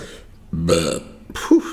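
One loud, close burp rumbles briefly in the middle, followed by a shorter throaty burst, with no clear talk around it.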